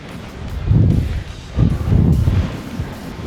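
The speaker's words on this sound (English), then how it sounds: "Start to feel the wind up here as well" Blustery wind buffets the microphone near a hilltop summit on Sheffield Pike in the Lake District, rising in two strong, rumbling gusts with a brief lull between them. No voices.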